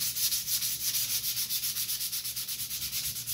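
Steady, rapid back-and-forth sanding on the top side of a wooden model ship deck, close up, with a regular scratchy rhythm of many even strokes throughout.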